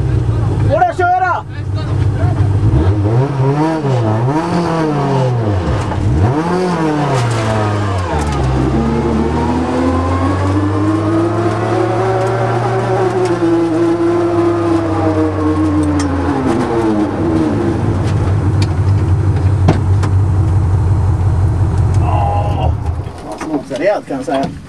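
A car in first gear revs through several rising and falling engine swells before pulling away in a long climbing drone, loud and close, with people talking over it throughout.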